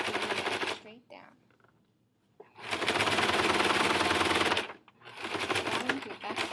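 A sewing machine runs in fast, rattling bursts while back-stitching the end of a circle skirt waistband: a short run, a pause, a long steady stitch, then another burst, loud and close.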